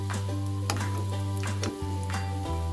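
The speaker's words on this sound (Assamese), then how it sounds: "মই এই তেলতে বিলাহী ভাজি ল'ম" Tomatoes fry in hot oil with a steady, dense sizzle and crackle, broken by a few sharp spatula scrapes against the pan, under a constant low hum.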